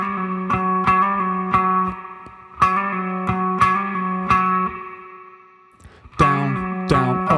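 Electric guitar picking the opening riff, with hammer-on and pull-off phrasing, played solo through effects with a chorused, slightly echoing tone. Two repeated plucked phrases ring with sustained notes, a brief quiet gap, then the riff restarts.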